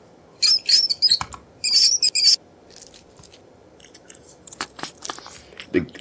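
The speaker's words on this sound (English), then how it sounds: "The cat tears it apart instantly." In a video game, a cat tears apart a mouse. Two bursts of high shrill squeaking come first, followed by scattered crunching and tearing noises at moderate volume.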